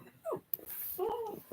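A dog whimpering, with two short, faint, high whines close by and nobody talking.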